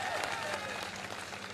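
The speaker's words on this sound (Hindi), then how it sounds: "एक बार सब लोग हमारे तीनों कैंडिडेट्स के लिए ताली बजा दीजिए" Crowd applause at a political election rally in Madhya Pradesh, a dense, continuous clapping that stays steady and loud throughout.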